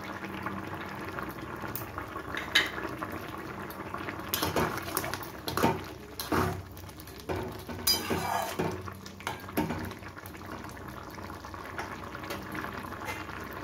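Mutton simmers in a covered pot with split green chillies and saffron-soaked milk stirred in, giving a soft steady bubbling with scattered clinks and lid or utensil knocks, close by and with no talk.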